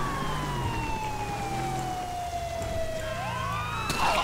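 American police car siren in the LSPDFR video game, a steady wailing tone sweeping slowly downward, then shifting into a faster yelp near the end, heard alone at moderate distance.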